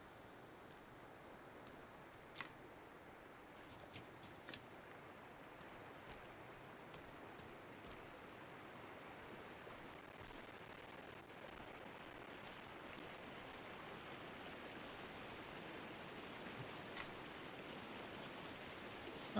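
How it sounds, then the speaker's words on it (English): A large waterfall in the survival video game Sons Of The Forest, heard as a faint, steady broadband rushing wash of water that runs unbroken throughout, with occasional soft clicks and no voices. "Sounds like one hell of a waterfall."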